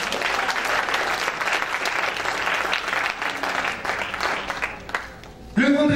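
A church congregation claps and cheers in praise of the Lord, dense sustained applause with voices mixed in, fading briefly before a speaking voice returns at the end.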